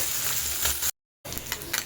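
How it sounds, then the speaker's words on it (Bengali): Small mola fish frying in hot oil over a raised flame, a dense, loud crackling sizzle broken by a short total silence before resuming. "মাছগুলো যতক্ষণ ভাজা হচ্ছে"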